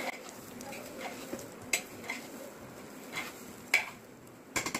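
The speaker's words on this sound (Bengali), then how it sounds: "আমি এবার ডাকাটা সরিয়ে আবার খিচুড়িটাকে নেড়ে দিচ্ছি।" A spoon stirs Manipuri khichdi in a cooking pot, giving scattered light metallic clinks and scrapes spaced irregularly over soft background hiss, close and fairly quiet.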